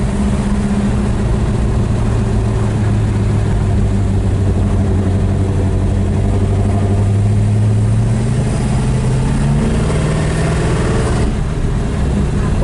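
A 1963 Dodge Ramcharger clone V8 idles steadily and close by with a deep, lumpy rumble. It holds an even beat throughout, with a slight change in pitch near the end.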